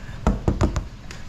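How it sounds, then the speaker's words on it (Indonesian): Knuckles knock on a fibreglass car fender on a Land Cruiser 200 body build: five short, hollow raps, close and fairly loud, in a quick uneven sequence. "Itu ketok aja fender jauh-jauh."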